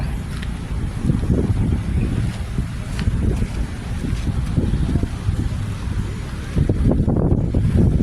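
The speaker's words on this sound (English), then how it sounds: "Wow, the wind is too strong." Strong wind buffets the microphone during the takeoff of a DJI Mini 5 Pro drone in Bali, a steady loud low roar and rumble with gusts that swell toward the end.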